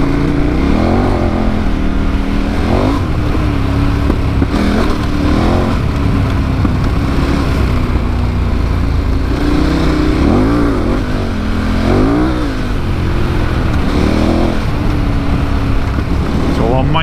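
A heavy off-road motorcycle with TKC 80 tyres revs its engine in loud, repeated rising and falling bursts over a steady rumbling idle, close by throughout, with a voice talking at times.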